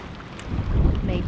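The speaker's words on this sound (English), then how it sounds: "Yeah, it's quite windy." Wind buffets the microphone with a low, rumbling rush that builds slightly over a moment outdoors while sailing.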